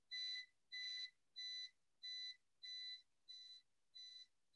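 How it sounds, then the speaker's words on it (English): A high electronic beep repeats evenly, about eight short tones in a steady rhythm with silence between, clear and alone. "The reader will beep"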